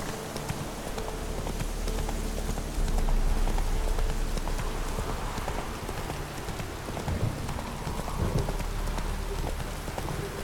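Roach, the horse in Witcher 3, trots with steady clip-clopping hooves under a constant hiss of heavy rain and a low rumble, continuous and fairly loud.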